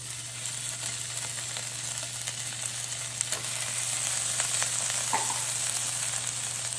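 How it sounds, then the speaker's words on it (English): Meatballs browning in a pan over medium heat give off a steady, close sizzle and crackle that runs unbroken throughout, with no voices over it. "We just want to get them into a pan over medium heat. We're going to get just a little bit of color on them."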